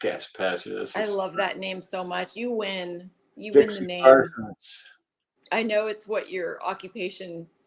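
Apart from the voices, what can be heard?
No everyday noises stand out.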